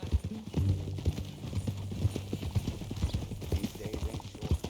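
Steady clip-clop of horse hooves trotting at an even rhythm in the video game Red Dead Redemption 2, fairly close, with low rumbling underneath throughout.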